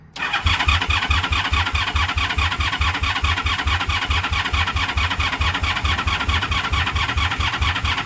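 A 1983 Honda Shadow VT750C motorcycle engine cranks steadily without catching, the starter churning in a fast even rhythm, loud and close, for several seconds.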